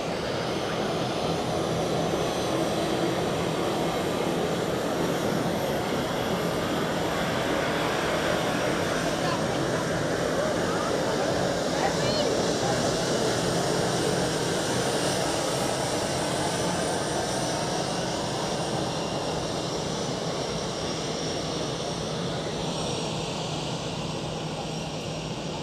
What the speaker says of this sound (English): The A320 here is going to Valencia.